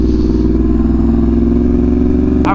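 Motorcycle engine revving hard and holding high revs during a misty, cold group ride, a steady loud near roar with rich harmonic drone, ending in a brief sharp clatter.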